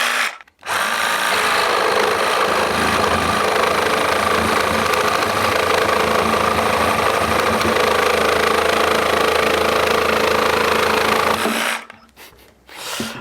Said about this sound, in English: I didn't realise this jigsaw could go so slow.